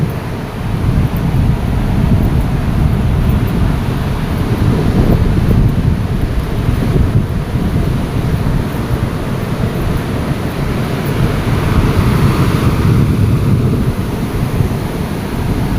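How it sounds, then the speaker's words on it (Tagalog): Strong ocean waves and wind at a shore, a loud continuous roar of surf and buffeting wind noise across the whole span, no clear voices. "Grabe yung lakas ng alon."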